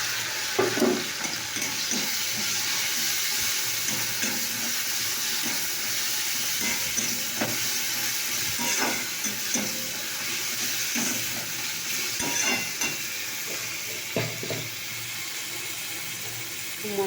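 Onion frying with ginger-garlic paste in a pan makes a continuous soft hiss, broken by irregular scraping knocks of stirring, with no talking.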